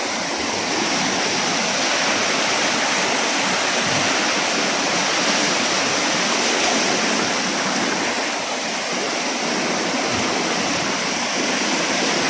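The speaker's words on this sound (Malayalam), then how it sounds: "നിൽക്കാതെ പെയ്യണ മഴയാണ്." Heavy non-stop rain pours alongside swiftly rushing floodwater, a dense, loud, unbroken roar of water with no pauses.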